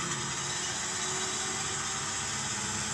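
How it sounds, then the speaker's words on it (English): A truck engine labours while driving, a loud, steady broadband roar with a rough low rumble running unbroken throughout and no voices. "That truck looks like it's having trouble and difficulty driving"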